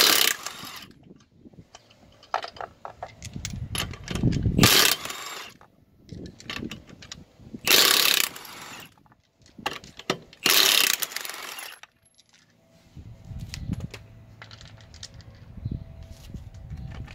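A power tool whirs and rattles in several loud bursts separated by pauses, loosening the axle nut on a 2010 Kia Forte close by, with metallic clicks between runs.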